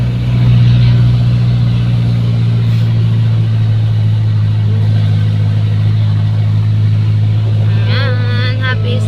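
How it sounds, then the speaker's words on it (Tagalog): Heavy traffic roars past steadily on a rough road, a constant loud engine drone with a strong low rumble that holds for the whole stretch, plus a brief higher whine near the end. "Nakakatakot dito pag may mga malalaking sasakyan."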